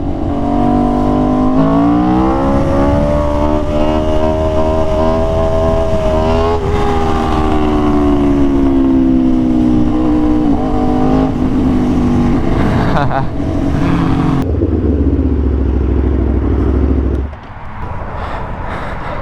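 An Aprilia RSV4 Factory motorcycle accelerating hard through wheelies, its engine note climbing loud and close in sustained pulls, with heavy wind rush and an abrupt drop as the throttle eases near the end.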